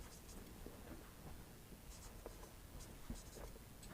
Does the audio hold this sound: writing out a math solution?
yes